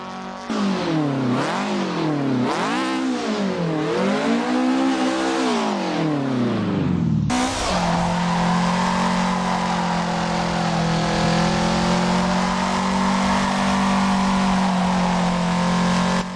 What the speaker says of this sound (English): So we're gonna listen to the drift right now.